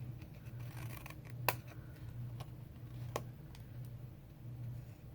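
Scissors cutting the flaps of a paper treat box at a slight angle, giving a few faint, separate snips and crisp clicks over a low steady background hum, with no talking.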